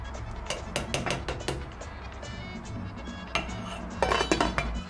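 Metal spoon scraping and clinking against a pot while Dominican rice pudding is stirred, a run of sharp close taps that pause, then return louder near the end.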